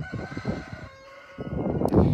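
A farm rooster crows near the hen houses, a loud, fairly close cock-a-doodle-doo rising and falling over about two seconds amid some background clucking.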